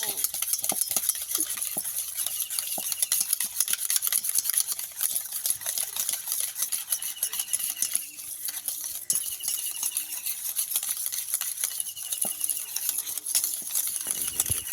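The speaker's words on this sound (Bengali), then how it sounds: "টক দইটাকে ভালো করে হ্যান্ড উইচ দিয়ে ফাটিয়ে নেব।" A hand whisk beats sour yogurt into a cream in a bowl, making rapid, steady metallic clicking and scraping strokes close by, with no voices.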